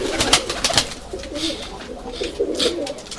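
White Istanbul and Urfa pigeons coo inside a box, a close, soft chorus of overlapping throaty rolling calls that continues throughout.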